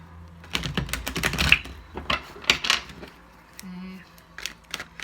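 Tarot cards being shuffled by hand on camera, a run of crisp riffling snaps and soft card taps in irregular bursts, close and fairly quiet, with a brief low hum in between.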